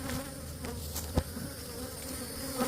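Honey bees buzzing around an opened beehive, a steady close drone of many insects with a few louder passes near the listener.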